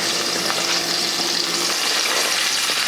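Loud, dense crackle of garlic sizzling in a pot for chili, with busy popping and hissing that stays steady and close, no voices over it.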